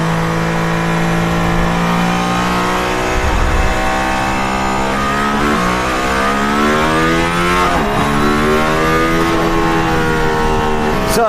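Mercedes-AMG ONE hypercar accelerating hard on a racing circuit, a loud, close, continuous engine roar climbing and shifting in pitch through gear changes, heard alone without talk.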